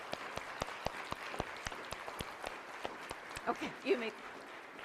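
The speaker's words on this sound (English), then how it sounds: "Let us give a huge round of applause for" A church congregation claps for new members, the sharp individual claps ringing out at a steady quick beat as the applause thins, with someone speaking over the end.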